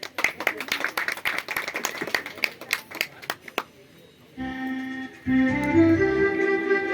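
An audience claps for a girl about to perform, sharp irregular claps for about four seconds, then stopping as a loud tonal music passage begins.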